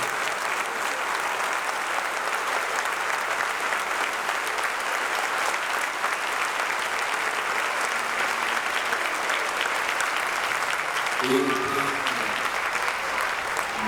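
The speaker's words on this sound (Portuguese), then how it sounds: "dê o melhor aplauso que você já deu esta manhã" Sustained applause from a church congregation during a morning worship service, a steady dense wash of clapping that holds evenly for the whole stretch with no talk over it.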